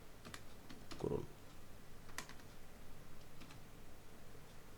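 Typing on a computer keyboard while entering text in Photoshop. Scattered light key clicks come through close by, and a voice speaks over them briefly.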